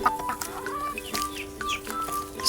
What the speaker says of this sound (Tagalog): Mga manok dito naghahabol.